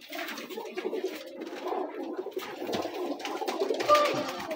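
Rajshahi Giribaj pigeons cooing steadily and close by, soft rolling coos overlapping one another at a moderate level with no talk.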